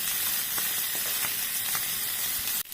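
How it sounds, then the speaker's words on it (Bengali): Small mourala fish frying in a pan with panch phoron five-spice make a dense, continuous sizzle with faint crackles, close and steady throughout, ending in a brief sharp knock. "5 ফোড়ন দিয়ে মাছটা একটু ভাজা হোক"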